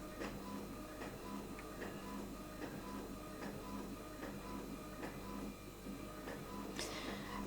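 Muffled mechanical whirring and rhythmic clunking from a printer feeding pages, steady and fairly quiet throughout, like background machinery in a room.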